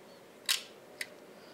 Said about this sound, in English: And it seems like this shutter works quite well.